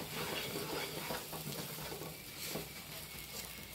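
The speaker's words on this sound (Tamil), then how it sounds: "இப்போ ஒரு ரெண்டு நிமிஷம் இப்படி நல்லா உணக்கிக்குவோம்." Moong dal and wheat dry-roasting in a pan, with soft continuous scraping and stirring and a faint sizzle, quiet and close with no talk.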